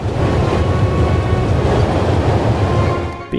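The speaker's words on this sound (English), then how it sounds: "There's nothing quite like traveling on a train." A train travels steadily in the video game The Raven, a loud continuous rumbling roar with low clatter that holds evenly before fading at the end.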